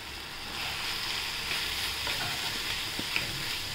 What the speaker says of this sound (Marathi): आता आपण हलवून घेऊया।